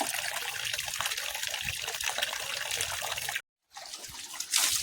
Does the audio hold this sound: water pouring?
yes